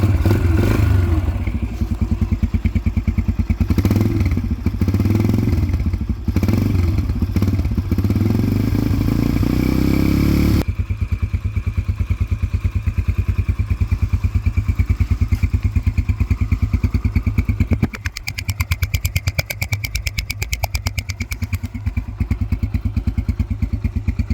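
A dirt bike engine starts and idles while it warms up, making a loud, close, steady rapid putter. The sound is rougher and heavier in the opening seconds, then settles into an even idle that runs to the end.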